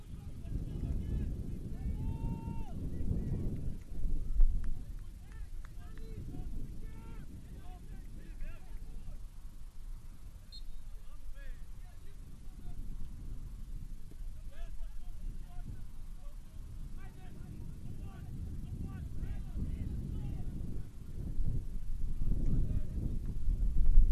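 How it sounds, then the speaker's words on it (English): Strong wind buffeting an outdoor soccer commentary position, a continuous low rumbling roar that swells near the end, with a commentator speaking over it. "Wind is even managing to slide my laptop across the table."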